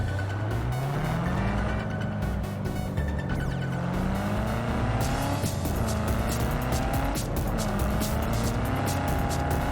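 A car in Cyberpunk 2077 skids with a long rising tire squeal over a loud, revving engine, the screech sliding in pitch for several seconds as the car slides, with no talking.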